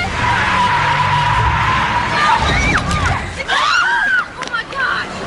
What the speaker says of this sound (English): And I heard this car coming toward me, but I had no idea how to get out of the way.